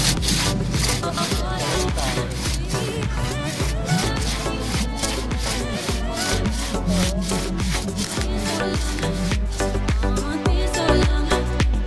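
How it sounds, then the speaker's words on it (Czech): A small hand saw cuts through the trunk of a maypole being felled at a village event, its steady back-and-forth rasping strokes close and loud, continuing evenly throughout. "Teď tu pilku jsem si vzal, aby se mohl skácet Májku."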